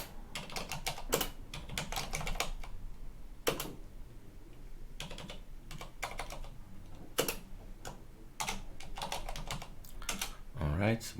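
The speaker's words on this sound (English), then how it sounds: "let's type another thing" Typing on a computer keyboard while using a Gentoo Linux setup: irregular bursts of close, crisp key clicks with short pauses between runs, and a voice speaking briefly now and then.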